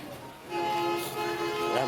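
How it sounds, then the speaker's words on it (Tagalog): A garbage truck sounds its horn in a street, a couple of sustained tonal honks at moderate distance rising over background noise and faint talk in Filipino. "Ayan, busina ng basura."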